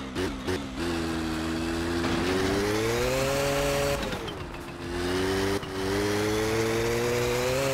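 A motorcycle engine in the My Summer Car video game, coughing with a few sputters before catching and running at a steady buzzing idle, dipping and picking up again with brief revs.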